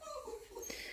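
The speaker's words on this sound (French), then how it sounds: "Kenzo, excusez-moi, c'est le chien." A dog whimpering indoors, a few thin, wavering high whines rising and falling, quiet and close, with soft room noise and faint voice-like sounds around it.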